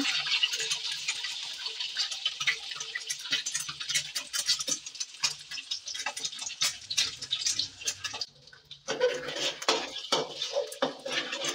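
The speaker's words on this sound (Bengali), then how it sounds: "ডিমটাকে ভেজে নিতে তেলের মধ্যে।" An egg frying in hot oil in a pan, a bright crackling spatter that holds steady, with a brief dip partway through before the sizzle resumes with a few light taps.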